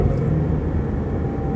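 A Shelby GT350 with its exhaust valves closed gives a muted, steady low rumble for under two seconds, close by but subdued and without a throaty bark.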